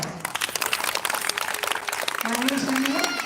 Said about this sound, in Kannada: ಇವರು ನನ್ನ ಜೋರಾಗಿ ಚಪ್ಪಾಳೆ.